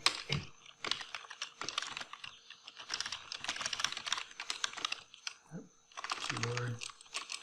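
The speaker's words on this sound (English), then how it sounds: "Keyboard." Computer keyboard typing in fast bursts of clicking keys with short pauses between runs, fairly close, mixed with a brief voice and a low hum near the end.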